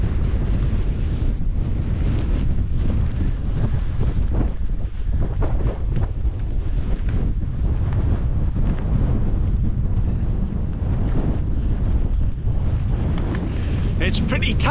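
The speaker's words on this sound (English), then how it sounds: "there's a bit of certainly a stronger wind than we were expecting" Strong wind buffets the microphone at a wild camp in the Howgills, a constant loud roaring rumble with gusty surges throughout and no break.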